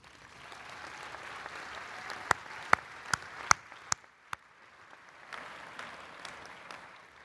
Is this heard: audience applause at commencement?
yes